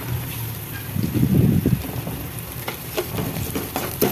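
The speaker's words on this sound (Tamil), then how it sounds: "வதங்கட்டும் வெங்காயம் ஓரளவுக்கு வதங்கிருக்குங்க" Onions frying in a pan for onion rice, with a low, uneven sizzle and stirring rustle that swells briefly near the start, then settles into a steady crackle with a few sharper ticks.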